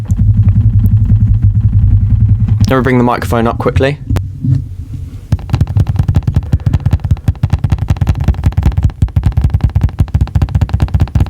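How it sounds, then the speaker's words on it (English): A wobbly laptop trackpad is tapped in a fast, steady run of close, thumping knocks with a low rumble beneath. A short bit of talk interrupts before the rattling tapping continues. "That is the sound of the wobbly trackpad."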